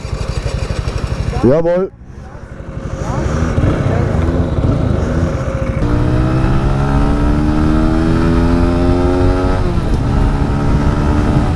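Motorcycle engine cranks and catches with a sharp burst, settles into a rough idle, then revs up and holds steady and loud, with people talking over it.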